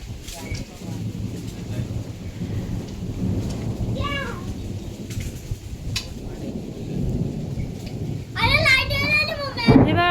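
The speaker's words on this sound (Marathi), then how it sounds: "खूप विजा वगैरे पण खूप चमकत होत्या आणि खूप जोराचा असा पाऊस आलेला बघा" Heavy rain lashes down over farm fields with rumbling thunder, a loud steady downpour while children's voices chatter and shout, growing livelier toward the end.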